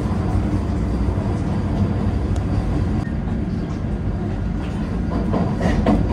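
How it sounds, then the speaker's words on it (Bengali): The Howrah–Puri Vande Bharat Express runs at speed, giving a loud, steady rumble from inside the carriage with a faint rhythmic rattle and no voices. "দরজা ক্লোজ হয়ে গেল এবং নির্দিষ্ট সময়ের পর ছেড়ে দিল আমাদের ট্রেন পুরীর উদ্দেশ্যে।"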